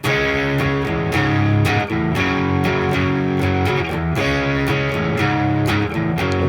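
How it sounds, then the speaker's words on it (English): Heavily distorted electric guitar strums the chorus chords of a song, loud and sustained, with rhythmic chord changes and no voices. "you're going to keep all the distortion on and just play through the chorus chords."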